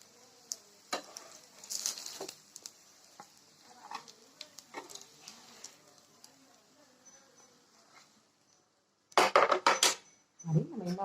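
Browned fried snacks being lifted from the pan onto a plate: scattered light clinks and scrapes of utensil on metal, then a burst of louder clattering near the end, with some faint voice sounds.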